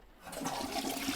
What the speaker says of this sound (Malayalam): ഫ്ലഷ് അടിക്കേ.